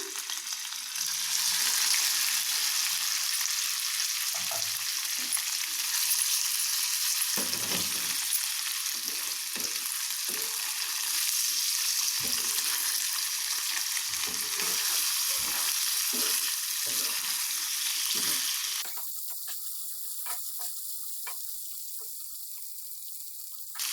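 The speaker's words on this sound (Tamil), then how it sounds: "இப்போது இதில் நம்ம கட் பண்ணி வச்சுருக்க இந்த பன்னீரை சேர்த்திடலாம்." Cut paneer cubes fry in oil in a kadai with a loud, continuous hiss and crackle that drops to a quieter sizzle near the end.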